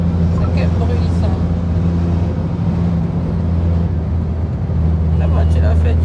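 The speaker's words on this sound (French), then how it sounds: "La voiture a fait du bruit comme ça." Car engine producing a loud, steady low droning rumble with a constant hum throughout, with faint voices in the background.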